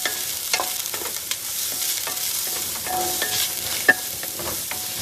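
Onions fry in a pan with curry leaves and green chillies, giving a steady close sizzle broken by scattered scraping stirs and one sharp clink, with no voices.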